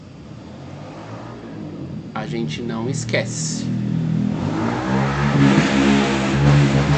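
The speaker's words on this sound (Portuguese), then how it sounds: "Eu peço perdão pelo barulho das motos." Motorcycle engines rev and roar outside, growing louder as they pass, while a person speaks briefly over the noise.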